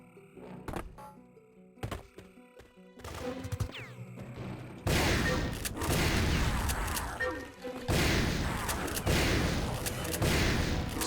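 Weapon fire from the fire swarm in Turok 3: Shadow of Oblivion, starting with scattered sharp shots and thumps, then settling into a dense, loud, sustained barrage with rapid bursts and booming impacts.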